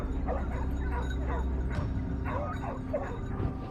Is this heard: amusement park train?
no